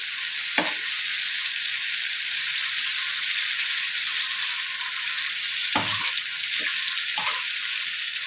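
Basterma sizzling in ghee in a pan, a steady, close hiss of frying fat that runs unbroken, with a few soft clinks from a utensil.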